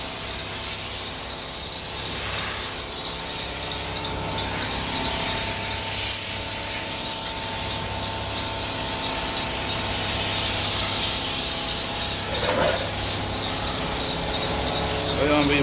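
A spray gun lays filler onto the body of a 1938 SS Jaguar 3½ Drophead in a steady, loud hiss that runs almost without break, with a faint mechanical hum underneath.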